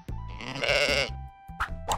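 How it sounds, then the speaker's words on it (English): A sheep on a farm gives a loud, wavering bleat close by, followed by two short bleats after a brief pause. "It's a sheep."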